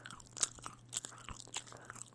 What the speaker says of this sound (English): the chewing gum sound